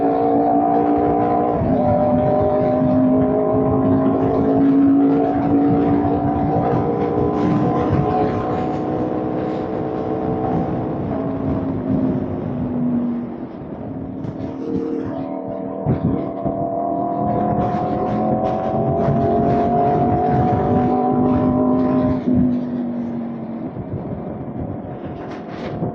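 A motorcycle on its first ride after being picked up drones steadily at cruising speed, the engine tone shifting through gear changes with wind rushing past, loud and continuous.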